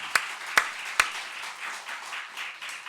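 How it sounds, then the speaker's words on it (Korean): A few sharp claps stand out early over a soft, steady wash of scattered clapping from a church congregation during a sermon, fading to a low murmur of applause. "박수 한번 쳐봐요"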